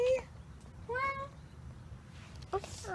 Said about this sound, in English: He's so cute, kitty cat.